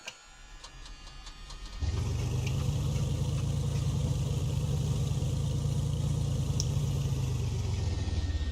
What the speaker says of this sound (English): Let's go ahead and start the right engine here.